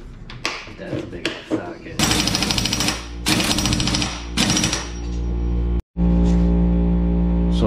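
Pneumatic impact wrench hammering a 36 mm socket during assembly of a BMW E39 M5 Getrag 420G transmission, loud rattling bursts in a workshop, several short runs followed by a longer steady burst, with a brief cut near the end.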